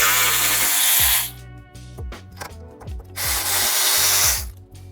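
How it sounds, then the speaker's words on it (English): A power tool loosens brake line bolts on the front suspension of a Gen 4 Toyota Tacoma TRD, giving two loud, close whirring bursts with metallic clinks and knocks between them. "take loose all the brake line bolts so they're out of the way"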